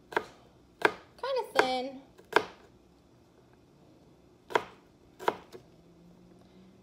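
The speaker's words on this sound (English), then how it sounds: "And then I'm going to start slicing it" Knife chopping through vegetables for Zuppa Toscana soup on a cutting board, a handful of sharp, separate chops spaced apart, close and clear, with a brief spoken remark early on.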